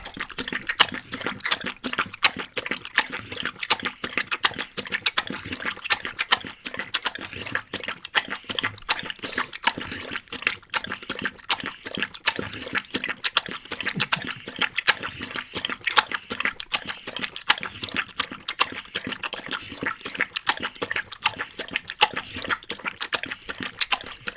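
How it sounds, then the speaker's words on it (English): A pet laps water from a bowl, steady rapid wet slurping and lapping strokes repeating continuously up close, with no voices over it. "He's just drinking the water now."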